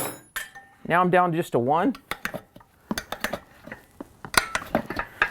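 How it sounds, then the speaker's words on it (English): Metal tire spoons clink and scrape while levering the bead of a Dunlop D803GP trials motorcycle tire, giving scattered sharp metallic taps after someone speaks. "These tire spoons are nice and rounded, and they have a little lip to them, so they'll catch right under the bead of the tire"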